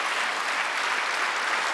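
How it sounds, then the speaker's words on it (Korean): Loud, dense applause from a church congregation during a Sunday worship service at Jesus Central Church, a continuous even wash of many clapping hands with no break. "박수 세게 쳐요."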